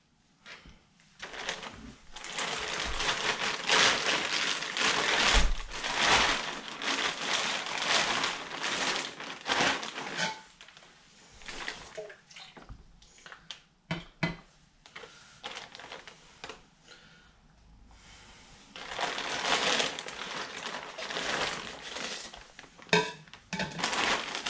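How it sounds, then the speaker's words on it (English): Hard, dried-out porcelain clay is chopped up by hand in a pottery studio, giving long stretches of dense crunching and scraping broken by short pauses and sharp individual knocks, fairly close and with no voices. "I'm just going to spend a minute chopping this back up"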